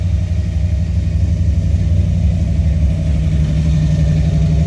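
A Buick 455 Stage-1 V8 in a Regal-T runs close by with its paint burning off the headers, a loud, deep, steady idle with a rhythmic low rumble and a slight rise in revs partway through.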